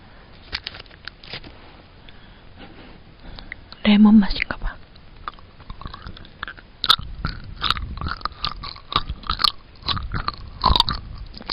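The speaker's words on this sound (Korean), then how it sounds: "하리보 젤리 먹어볼게요" Haribo Mega Roulette gummy candy being bitten and chewed close to the microphone, with soft, sticky chewing and a few sharper bites, mixed with quiet whispered speech.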